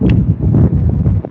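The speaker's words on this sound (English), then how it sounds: "Pretty windy." Gusty wind buffets the microphone outdoors on a fishing trip with an ultralight baitcasting rod, a steady low roar swelling and dipping throughout with no talking.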